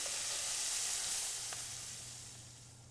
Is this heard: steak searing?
yes